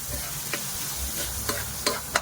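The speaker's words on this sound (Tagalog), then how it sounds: "Gigisa ko muna itong giniling." Ground meat sautéing in a pan with oregano, giving a steady close sizzle with a few sharp scraping and stirring clicks.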